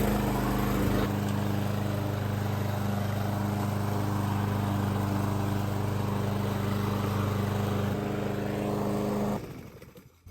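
A small lawn mower drones steadily through long grass, a close and continuous engine hum lasting about nine seconds before it fades out abruptly, with no voices over it.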